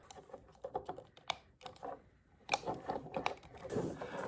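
Plastic fuel pump parts on a Husqvarna FE501 motorcycle are clicked and snapped together by hand, making a series of small, close, irregular clicks and taps with quiet pauses between them.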